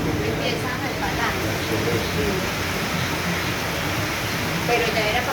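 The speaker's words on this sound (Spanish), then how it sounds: "ya lleva rato lloviendo" A heavy rain downpour during a storm in Medellín pours down as a dense, steady hiss that fills the whole stretch, while voices talk faintly beneath it.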